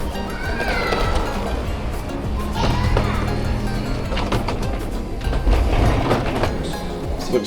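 An airport people mover train running through a terminal, a steady rumbling ride with rail clatter and hum, loud and continuous throughout, with faint background noise.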